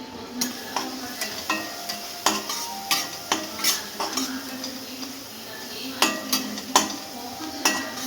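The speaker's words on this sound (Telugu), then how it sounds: "ఇలా పసుపు వేసుకొని కలుపుకొని" A spoon stirs turmeric into potato curry frying in a pan, producing repeated scraping clinks against the metal at a steady, uneven rhythm over a soft continuous sizzle, close up and with no talking.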